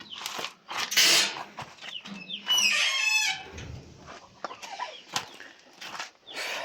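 Turkey clucks and squawks near at hand amid bursts of wing flapping, with a short shrill call in the middle and scuffling around it.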